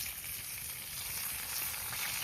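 Bacon sizzles and crackles steadily in a pan over a campfire outdoors in snowy weather, a dense, even hiss that holds at a constant level with no talking.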